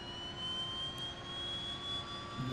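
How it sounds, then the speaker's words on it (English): The right engine of a DHC-6-300 Twin Otter starts up in the FSX flight simulator with a steady turbine whine and a rising high tone over a low rumble, close and continuous. "start up the right engine."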